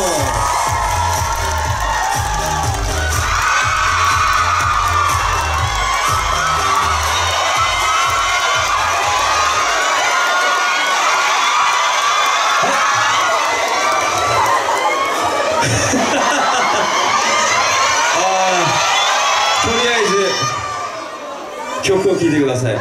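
A festival crowd cheers and shouts to welcome performers onto the stage at the 2018 Korea tourism festival. The loud, dense roar holds for about twenty seconds, with children's shrieks and an announcer's voice mixed in, then eases near the end.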